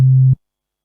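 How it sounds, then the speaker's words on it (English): A synthesizer sine wave tone holds steady and loud for about a third of a second, then cuts off abruptly into silence, with no voices. "If we have a sine wave"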